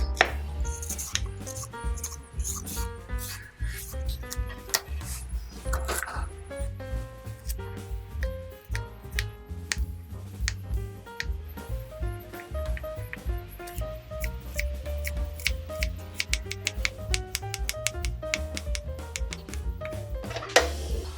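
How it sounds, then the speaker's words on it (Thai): Rapid, repeated knife chops through carrot on a cutting board, crisp and close, over a steady background of soft music. "ปอกแล้วก็หั่นแครอทค่ะ"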